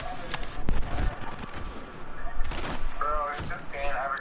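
Gunfire in a shooter video game, several sharp shots and bursts spread through the clip, mixed with game effects and background noise while players talk over it.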